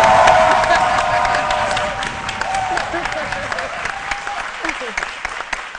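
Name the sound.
audience applause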